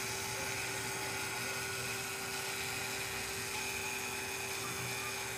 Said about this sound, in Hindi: ये चार्जर की आवाज़ सुनिए ज़रा।